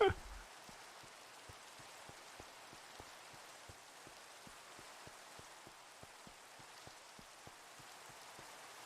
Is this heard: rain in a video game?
yes